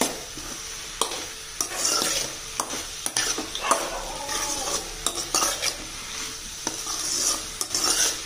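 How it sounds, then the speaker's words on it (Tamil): A utensil stirs chopped chayote with tamarind and tomato frying in a pan for a chutney, giving a steady sizzle with repeated scraping and clinking strokes against the pan. "புளி ஆட் பண்ணி நல்லா மிக்ஸ் பண்ணிக்கலாம்."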